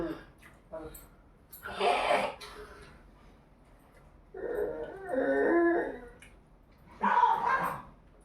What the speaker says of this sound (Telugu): అది కుక్క